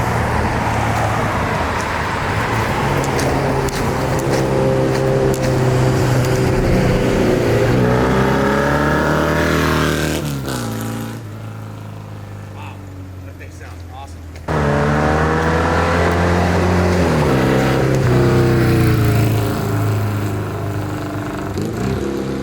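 A 1970 Norton Commando 750R with Dunstall equipment runs close by, its engine revving up and settling in loud sweeps, with a short quieter dip midway.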